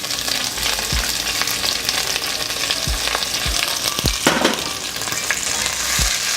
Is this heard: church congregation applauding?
no